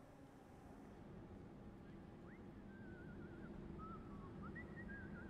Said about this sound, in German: Habt ihr es gehört? Das fröhliche Pfeifen.